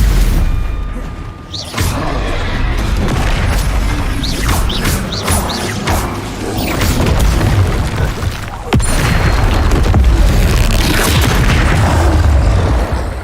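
Confringo fire-blast spells burst in the Hogwarts Legacy wizard game, with repeated loud booms, crashes and mechanical clatter running almost continuously over a dense, noisy battle bed.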